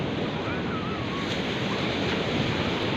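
Sea waves surge continuously at Mypadu beach in Nellore during stormy weather, a dense, loud wash of surf mixed with wind buffeting the microphone.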